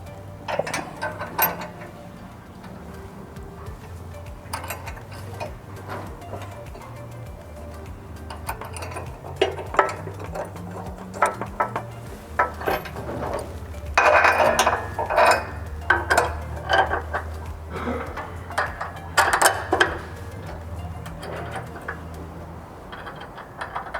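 Bolts are fed through and tightened on Rockarmor rock sliders being fitted to a Ford Ranger, with close, irregular metallic clinks, clanks and ratchet-like clicking that keep coming over a low background hum.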